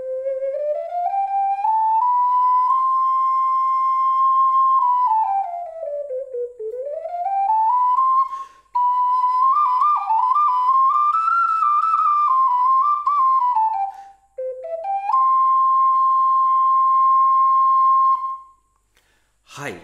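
A black clay wind instrument stamped Cantare plays a smooth, sustained solo melody, pure and whistle-like, close and loud, with brief pauses for breath between phrases.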